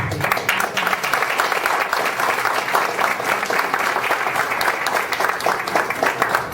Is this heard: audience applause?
yes